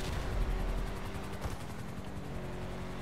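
A pipe bomb exploding during a highway heist mission in a video game, a dense roaring blast with rumbling low end and crackling noise that stays loud and then slowly thins over a few seconds.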